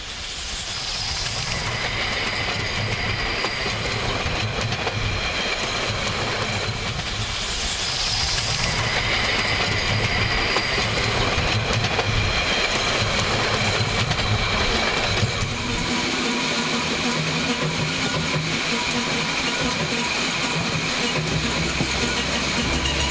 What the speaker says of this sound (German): Auf der Hauptbahn von Magdeburg nach Thale im Unterharz fährt ein Nahverkehrszug ein.